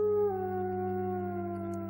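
Canine howling, long and sustained, with a steady tonal pitch that slips slightly lower early on; moderate level and heard alone without voices.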